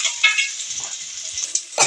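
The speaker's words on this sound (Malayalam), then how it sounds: "അതില് സബോള, ഒരു സബോള, ചെറിയൊരു സബോള വഴറ്റാൻ." A small onion sautés in coconut oil in a pot, giving a soft, steady sizzle close by, with a few faint stirring and utensil clinks and no talking.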